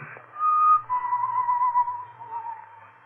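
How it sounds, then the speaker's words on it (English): A lone, eerie whistled tone drifts through a building as a radio horror drama sound effect, sustained and wavering, fairly faint and alone without talk. "The whistling was somewhere in the building."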